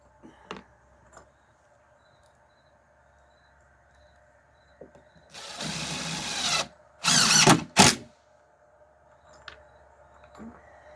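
Power drill driving screws into a wooden deck at a cabin build: two or three short, loud whirring bursts close by, separated by quiet with faint background insects.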